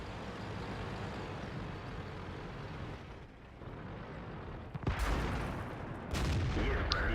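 Tank cannon fire in World of Tanks, with an M103 heavy tank and a T-54 medium tank fighting, comes as heavy booming blasts over a constant loud engine rumble and battle din, with a sharp burst near the middle and another shortly after.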